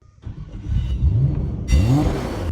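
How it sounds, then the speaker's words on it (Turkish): A Nissan GTR R34 with a titanium exhaust fires up and revs, a deep rumbling engine swelling loudly with rising pitch sweeps, close and dominant. "Paul Walker'ın arabasını çalıştırdık inanamıyorum ya."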